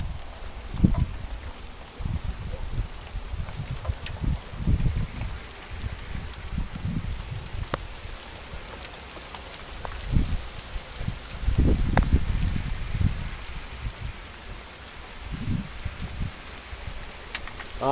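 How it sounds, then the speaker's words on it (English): Big fat raindrops fall during a thunderstorm, scattered heavy drops thudding onto surfaces in irregular bursts over a soft, steady background of rain and outdoor ambience. "big old fat raindrops are falling now"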